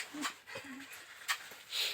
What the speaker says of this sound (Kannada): ನೋಡಿ ಒಂದು ನಾಯಿ ಬೇರೆ ಇದೆ